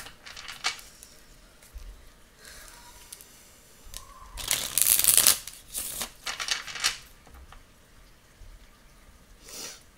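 A deck of tarot cards is shuffled up close, giving soft riffling bursts and papery slides, with a louder flurry midway and quieter card handling around it.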